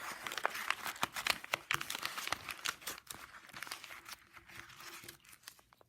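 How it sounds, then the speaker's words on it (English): A paper pumpkin is crumpled and squished by hand, giving dense, close crinkling and crackling that comes in quick bursts for several seconds and fades a little toward the end. "crumple your pumpkin."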